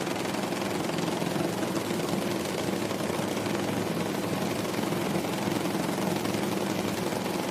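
A drag race car engine revving steadily at IHRA qualifying, a dense, continuous loud roar holding nearly constant for several seconds with no talk.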